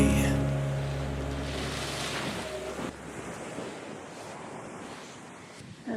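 Waves wash onto the beach at Vengurla with a broad, steady surf roar and wind buffeting the microphone, a low tonal hum fading out early on.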